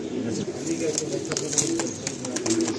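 Pigeons at a breeder's loft, Madrasi and Andhra breeds, coo steadily in low repeated notes throughout, close by, with someone talking over them.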